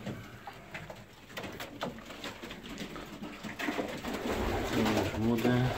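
Old Polish pigeons coo in a loft, with repeated soft, low throaty calls that grow clearer and louder toward the end, alongside rustling and faint background activity.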